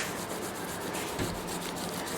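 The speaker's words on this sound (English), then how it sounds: "So I've had a few coats on this Yamaha here, and I've started sanding it back." Steady, continuous sanding across the finish of a 1978–79 Yamaha FG 335 acoustic guitar, an even close scratchy rub with slight strokes, heard alone for about two seconds.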